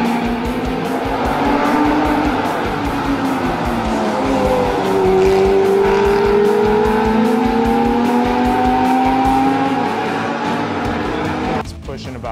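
A loud sports car engine of about 550 horsepower revs hard and climbs in pitch as it accelerates, a strong continuous roar close up, ending with a brief shift.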